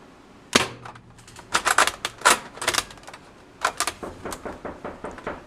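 A modded Nerf Longstrike blaster fitted with an OMW Immortal kit cycles and fires Dart Zone darts, giving a string of sharp mechanical clacks and snaps, some spaced and some in quick bursts, close and fairly loud with no talking.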